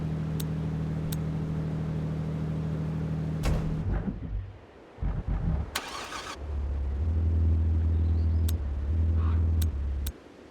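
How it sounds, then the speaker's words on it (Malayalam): Porsche 918 in the Car Parking Multiplayer game: a steady engine hum, then a sharp starter crank and catch, followed by a loud, throaty idle that rises and drops off near the end. "പിന്നെ വണ്ടീനെ സ്വിച്ച് ഓൺ ചെയ്യാൻ ഞാൻ ജസ്റ്റ് ഒന്ന് വോളിയം കൂട്ടി കാണിച്ചു തരാം"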